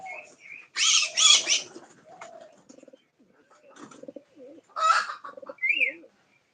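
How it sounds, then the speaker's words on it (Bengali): Pigeons coo softly in short, repeated bursts while eating soil on the ground, with a few sharper calls and quiet gaps between the phrases, close by. "এই যে আমাদের লক্ষা কবুতর আর মুখী কবুতর তো এখানে মাটি খাচ্ছে"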